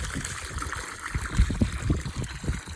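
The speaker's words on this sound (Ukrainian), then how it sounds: "Ось так от поливаю. І собі водичка хай біжить під кожен саджанець." Water trickles and gurgles steadily as grape saplings are watered at their base, a close, continuous bubbling flow with soft irregular splashes and no talking.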